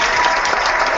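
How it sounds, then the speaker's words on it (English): A short burst of canned applause from an applause button on a live stream, a steady, uniform clapping texture that holds evenly for about a second. "Oh, we have an applause button."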